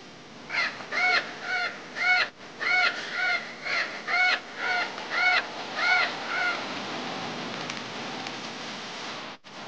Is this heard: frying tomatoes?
no